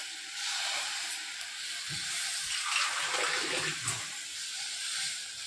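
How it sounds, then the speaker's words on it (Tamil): Water pours into a pot of cut tomatoes with a steady broadband hiss and splash, close and continuous, with a few soft low thumps partway through. "இது கொஞ்சம் தண்ணி விட்டுனா போதும்."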